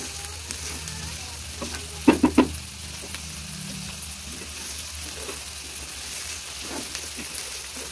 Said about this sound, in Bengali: পোলাও চালটা খুব ভালো করে ভেজে নিতে হবে